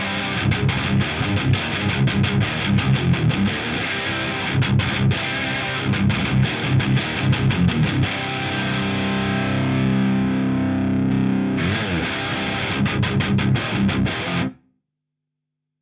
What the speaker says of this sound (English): This is why you buy a Diezel amp, I think, for this sound.